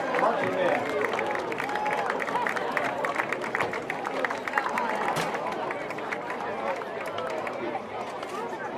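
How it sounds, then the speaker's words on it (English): A high school football crowd claps for the 2019 Iowa High School Scarlet Regiment Marching Band, a broad, steady wash of applause mixed with crowd chatter and cheering in the stands. "Let's give another round of applause for the 2019 Iowa High School Scarlet Regiment Marching Band."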